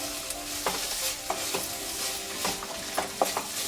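Vegetable pieces fry in hot oil, giving a steady, dense sizzle. A stirring utensil scrapes and clinks against the pan at irregular intervals, and no one speaks.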